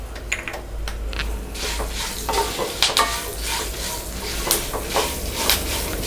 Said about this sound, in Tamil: நம்ம இஞ்சி வந்து போட்டுட்டு நம்ம ஆஃப் பண்ணிக்கலாம். இதை வந்து சூட்லேயே வதங்கினா போதும்.